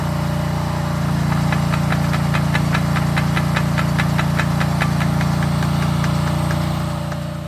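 A MechMaxx Mec10 mini excavator engine runs steadily nearby, a loud continuous mechanical drone with a rhythmic ticking knock, no speech.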